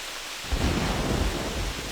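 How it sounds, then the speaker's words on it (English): Rain falling in the hunting video game theHunter 2017, a steady broadband hiss that swells after the first half second and then holds, with a low rumble like thunder underneath and no talking. "It seems like it rains a lot, too."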